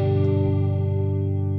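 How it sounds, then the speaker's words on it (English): Chorus-modulated electric guitar from a Boss Katana MkII amp at a high rate setting, a single sustained chord ringing with a wavering, ringy shimmer, loud and alone. "high rate adjusts the speed of the chorus effect for high frequency range"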